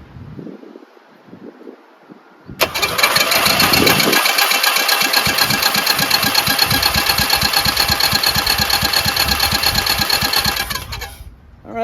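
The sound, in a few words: Briggs & Stratton 14hp engine running after rebuild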